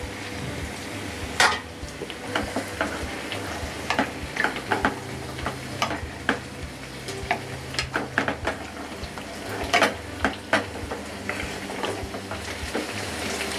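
A spatula stirs tomato puree in a pan for chicken handi. The stirring scrapes and clinks irregularly over a steady, soft sizzle of frying, with no talking.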